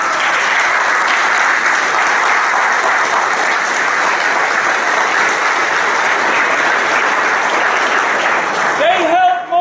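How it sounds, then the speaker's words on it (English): A room full of guests at a fire chief's retirement party gives loud, sustained applause, dense and unbroken, with a voice breaking in briefly as it fades. "Applause for the family."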